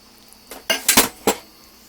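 Cornbread batter mixed in a bowl: a few quick scraping clinks of a utensil against the bowl in a close, brief burst of four or five strokes, without any talk.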